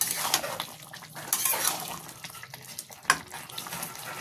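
Pea ghugni is stirred in a pan just after the lid comes off, with metallic scraping and clinking of the spoon against the pan and a soft wet hiss, close and moderately loud.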